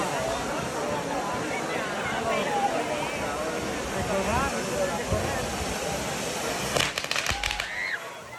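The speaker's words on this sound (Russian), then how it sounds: "мужчины по очереди одевают на себя чучело быка, обвешанное горящими фейерверками, и бегают друг за другом, забегая в толпу и поливая все искрами" Burning fireworks strapped to a bull effigy spray sparks through a crowd at a village festival in Biescas, Spain. Continuous hissing and crackling sound under crowd chatter, with a cluster of sharper pops near the end.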